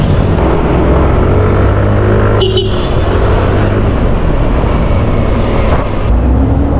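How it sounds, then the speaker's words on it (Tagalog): Heavy city traffic with oncoming motorcycles and tricycles, heard from a Yamaha Aerox 155 scooter near SM Fairview; a loud, continuous engine roar and road rumble fills the whole stretch, with no voices. "Sumasalubong na yung mga motor. Tsaka yung tricycle, sumasalubong na."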